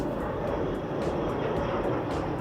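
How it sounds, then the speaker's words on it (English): A plane taking off at an airport gives a steady, broad engine roar that holds at an even level throughout, with no talking. "look at that plane take off right there"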